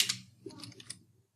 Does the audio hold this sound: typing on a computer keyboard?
yes